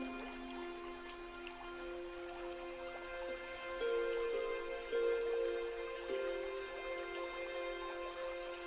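Rain falling on a Colorado morning, heard as a steady bed of pattering drops and splashes with a faint, continuous hiss and no voices.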